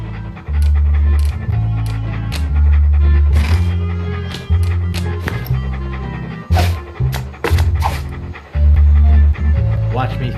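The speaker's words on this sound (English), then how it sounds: "Hello, little doggy." A dog pants in the Monkey Island 2 video game, heard over steady synthesized game music with sharp click-like effects, fairly loud and continuous.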